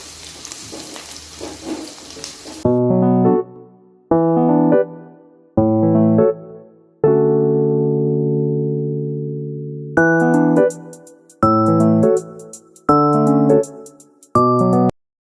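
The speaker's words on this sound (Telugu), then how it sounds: "ఇది మనకు బ్రౌన్‌గా కలర్ చేంజ్ అయ్యేంత వరకు ఫ్రై చేసుకోవాలి." Medium onions sizzle loudly in a pan for about two and a half seconds before the frying gives way to a series of clipped, tonal musical notes.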